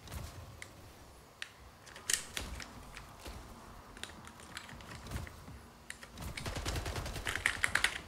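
Gunfire in the online shooter Splitgate, with scattered sharp shots and clicking weapon sounds at moderate level that grow into denser, busier firing toward the end.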